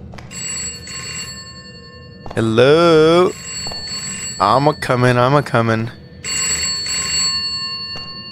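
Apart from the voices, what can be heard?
telephone ringing in video game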